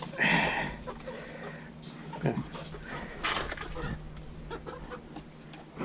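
A hen clucks in short, uneven bursts close by, with scattered farmyard knocks and rustles between the calls.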